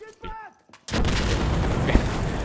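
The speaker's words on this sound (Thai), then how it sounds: "ยิงมั่วไปก่อน เดี๋ยวก็โดนนะครับ" Gunfire in a night-stage shooting video game: after a short voiced moment, a loud sustained burst of rapid shots and booming reports rolls on close and unbroken.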